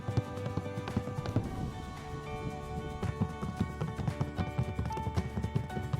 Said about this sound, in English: The Paso Fino horses.